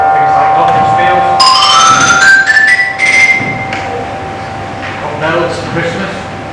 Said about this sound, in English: things like glockenspiels,